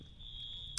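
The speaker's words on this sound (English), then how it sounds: "I just heard an alarm." A fire alarm sounds as one steady, faint, high-pitched electronic tone that holds without a break, with a soft click near the end.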